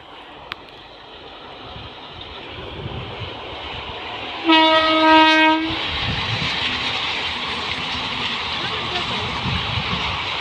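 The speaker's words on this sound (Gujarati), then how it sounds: "જો ટ્રેન આવી સાડા સાત વાગ્યાની" An electric train rumbles past nearby in a village with clattering wheels and a loud horn blast partway through, while people talk in the background.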